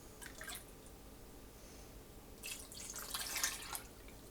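Tex Mex chicken soup is ladled into canning jars with faint, sporadic liquid drips and splashes, quiet at first and then a busier burst of pouring near the end.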